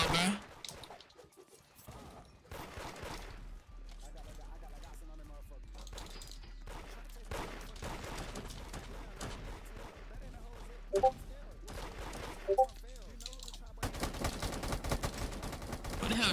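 Gunfire in the Roblox game Da Hood comes as scattered bursts of shots, some in quick clusters, mixed with louder blasts and game noise while players talk over it.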